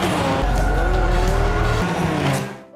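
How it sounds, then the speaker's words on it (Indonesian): A car speeds away from a convoy during a film chase scene, its loud engine roaring steadily with a tire squeal before the sound fades at the end. "Lalu dia pun melaju kencang meninggalkan rombongan."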